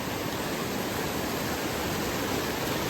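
Stream water rushes continuously over rock slabs around a small midstream island in a forest, a close, even, full-bodied wash with no voices.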